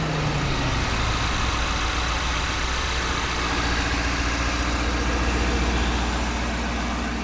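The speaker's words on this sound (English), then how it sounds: "Looks like the engine right now is kicking up into high idle." A 2023 Ford Super Duty pickup's engine runs at high idle, a loud, steady, close-up drone with a deep rumble and an even mechanical whir, no voices over it.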